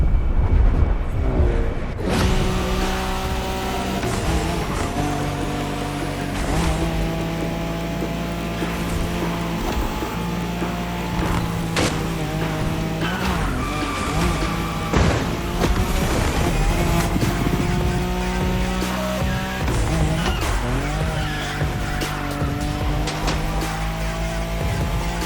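Nissan Skyline race car in a Wangan highway race, engine revving hard through rising and falling gear changes, loud and close, with occasional tire noise layered over the sustained roar.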